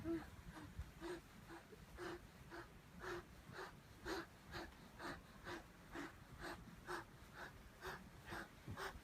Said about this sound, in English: That's the glove making noise.